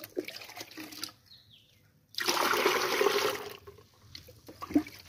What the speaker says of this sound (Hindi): अब इस 250 ग्राम के लिए आपको इसमें डालना है पांच लीटर पानी